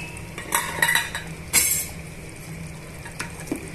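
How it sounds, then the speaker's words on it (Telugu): The lid comes off a pot of chicken masala curry with a few sharp metallic clinks and clatters, loudest near the start and middle, then a quieter knock toward the end. "ఇప్పుడు ఒకసారి మనం మూత తీసి చూద్దామండి"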